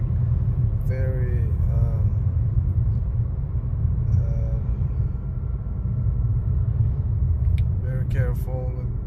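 A BMW 3 Series with a slipping, jerking transmission drives along, its low engine and road rumble droning steadily under brief chime-like tones and occasional clicks.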